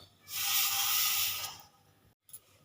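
Water poured into a wok set on a stove gives a loud, broad hiss that lasts about a second and fades, followed by a short soft clunk.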